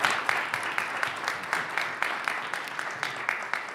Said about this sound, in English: Ryan, a round of applause, please.